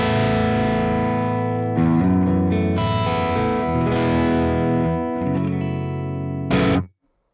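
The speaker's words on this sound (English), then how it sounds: "I'm now going to engage the compressor." Electric guitar through the Archetype Plini X plugin with its compressor engaged plays a short phrase of sustained chords and changes, even and full in level, ending with a final struck chord that stops sharply, no voices.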